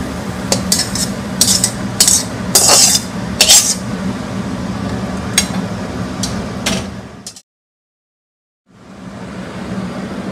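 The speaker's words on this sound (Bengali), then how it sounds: "প্লেটে ঢেলে দিলাম।" Chilli chicken poured from a pan onto a plate: clattering scrapes and metallic clinks of a utensil against cookware, loud and close, stopping abruptly before a short silence and then faint room noise.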